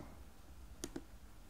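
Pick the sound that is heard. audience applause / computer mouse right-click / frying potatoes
computer mouse right-click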